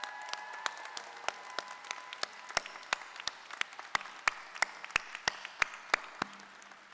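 Sparse applause from a graduation ceremony audience, a steady run of separate claps spaced through the clip over a quiet hall, moderately distant and fairly light rather than a full ovation.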